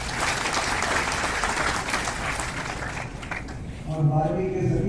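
Student audience claps at a merit-student honours ceremony in Rewa, a dense burst of applause that thins out toward the end before a voice briefly speaks.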